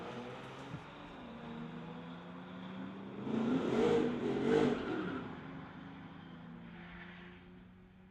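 A street-legal car launches at a drag strip, its engine rising from a steady idle to a loud revving roar that peaks and then recedes into the distance.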